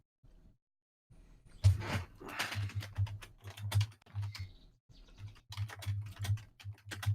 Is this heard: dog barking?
no